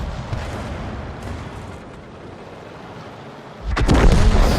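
A tank blows up in World of Tanks on the Malinovka map after an AMX 13 F3 artillery hit: a sudden heavy blast bursts out near the end after a low ambient rumble.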